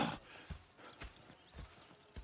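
Horse hooves clip-clopping in Red Dead Redemption 2, a steady rhythmic walking gait of soft thuds about twice a second, fairly quiet and close, with no talk over it.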